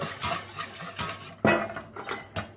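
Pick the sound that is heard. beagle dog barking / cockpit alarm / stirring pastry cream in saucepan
stirring pastry cream in saucepan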